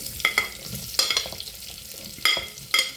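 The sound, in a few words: cumin seeds spluttering in hot oil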